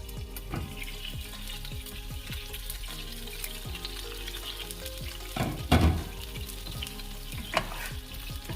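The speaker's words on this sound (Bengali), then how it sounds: "বেগুনগুলো আমার প্রায় ভাজা হয়ে গেছে" Eggplant slices frying in oil in a covered pan, giving a constant soft sizzle broken by repeated light clicks and taps, with a louder clatter near the end; nobody speaks.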